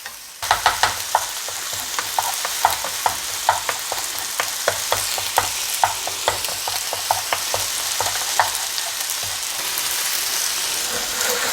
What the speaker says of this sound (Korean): 계란 한 개를 이렇게 넣고 스크램블처럼 예, 저어주세요.